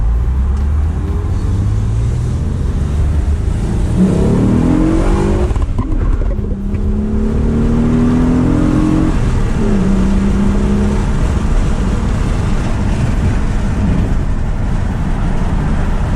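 A 2000 Nissan Maxima engine with an Injen cold air intake idles loudly close by, then revs up several times with rising, throaty roars before settling back.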